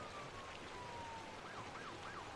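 A police siren wails faint and far off through steady rain, first a long falling tone, then a quick rising and falling yelp.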